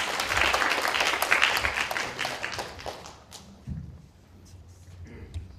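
Lecture hall audience at an information security festival applauding a speaker, a dense wash of clapping for about three seconds that then thins to scattered claps and room murmur as it fades.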